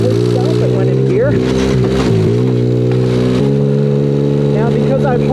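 A car runs with a newly installed, hard-mounted transmission and rear end, its engine droning loud and close with steady tones that dip and shift as it pulls away and changes gear, while someone talks over it.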